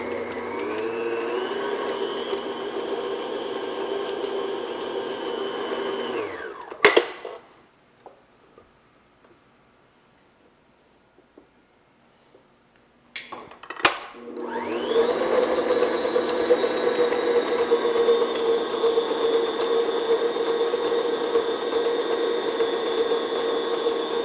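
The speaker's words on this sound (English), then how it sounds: "I'm just going to beat this medium speed until it's nice and creamy and smooth" An electric mixer beats salted butter at medium speed, giving a steady droning whir that stops abruptly partway through, stays quiet for several seconds, then starts up again and runs evenly to the end.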